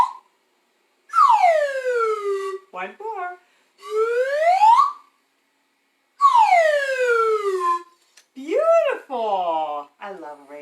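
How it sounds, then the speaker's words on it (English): A slide whistle glides down and up in long sweeping tones, repeated several times with short gaps, loud and close, plus a brief spoken phrase. "I'm going to do it with my whistle."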